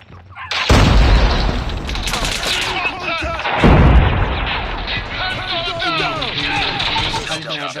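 Sniper rifle gunshots in the mobile battle royale game BGMI ring out loud and close, with sharp booming reports near the start and middle, over a continuous bed of game noise and chatter.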